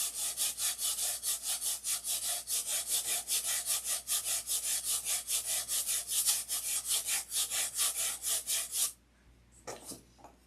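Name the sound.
sanding wooden parts of a build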